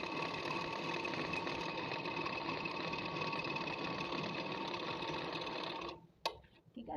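A sewing machine stitches a salwar in one loud, steady, close-up run lasting several seconds, its rapid whirring cutting off abruptly near the end.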